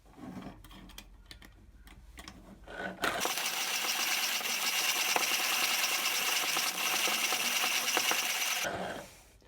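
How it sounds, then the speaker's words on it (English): A 1950s hand-cranked coffee grinder crushes coffee beans, with a dense, steady crunching rattle that starts abruptly after a few quiet seconds of small clicks and handling and then stops near the end. "we're going to grind the coffee and see how the grinder does both the speed and the fineness of the grind"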